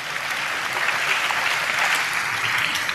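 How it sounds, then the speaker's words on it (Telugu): A church congregation clapping hands together, a dense, steady wave of applause filling the room without pause. "చప్పట్లు కొడుతూ గట్టిగా స్తోత్రాలు చెప్దాం."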